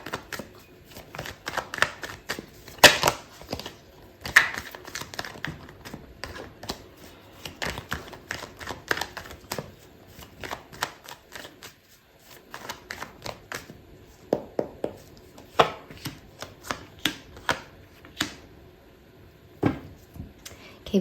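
Tarot cards being shuffled by hand, a steady run of close, crisp riffling and flicking bursts with short pauses, interspersed with a person talking.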